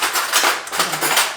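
A metal teaspoon clinks against a jar or bowl while pear sauce is tasted, several quick bright taps and scrapes close up, with no voices.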